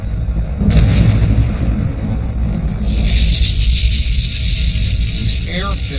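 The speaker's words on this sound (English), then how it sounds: "explosions ripped from the cone, sending a hail of marble-sized debris miles into the sky." Volcanic explosions burst from a cinder cone, a deep rolling rumble and booming blasts layered under heavy low roar, with a sharper hissing surge partway through and some voice-like sounds near the end.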